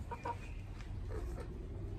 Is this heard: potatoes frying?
no